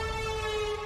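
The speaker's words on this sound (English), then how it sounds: "Ooh, that siren!" A steady, wailing siren tone from a movie trailer holds at one pitch, loud and close, for under a second.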